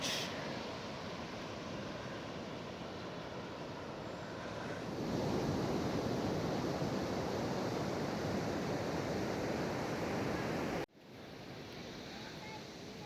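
Steady roar of ocean surf breaking on a Pacific beach along the Olympic Coast, continuous and full, swelling louder midway, with light wind noise on the microphone and a brief dropout near the end.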